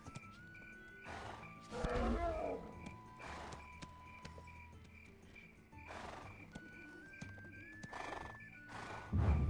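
In the online role-playing game Black Desert Online, a horse gives a loud whinny while hoof clops and game effects sound intermittently around it, with no one talking.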